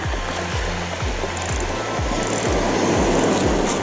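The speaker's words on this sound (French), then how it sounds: "il y a des grosses vagues de temps en temps" Surf breaks and washes along the shore at Saint Paul on Réunion Island, a loud continuous rushing roar of water, with a low repeating engine-like thump underneath.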